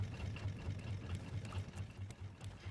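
Engines on a raft in the Raft survival video game, a steady low idling drone with a faint mechanical rattle, quiet and continuous with no talking.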